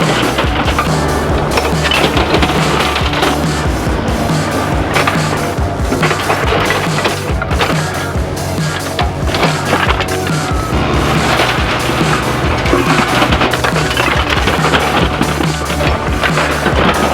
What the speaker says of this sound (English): He is loading up the tractor.